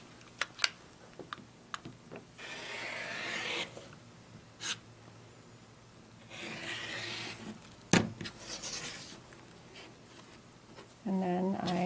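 Fabric blocks are trimmed along a Quick Curve quilting ruler, with two longer, soft scraping strokes of the cutter among faint taps and handling noises in a quiet room.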